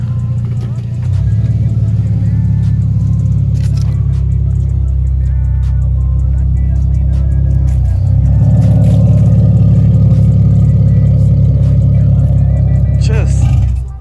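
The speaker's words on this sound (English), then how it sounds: "from the back, listening to that exhaust, it sounds so evil" Loud, steady exhaust rumble from a car heard from behind, with a deep low drone that swells and revs around the middle and near the end before cutting off abruptly.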